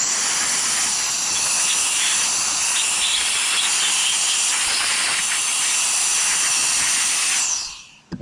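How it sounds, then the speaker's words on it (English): An electric blower runs at full power, blowing debris out of an RC car as a steady loud high hiss for about seven seconds before cutting off abruptly. "So I'm gonna just kind of just blow this garbage out right now."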